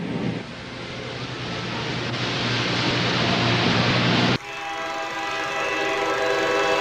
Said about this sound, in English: What's that? A train!